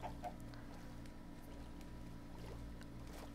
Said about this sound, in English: I can get more chickens.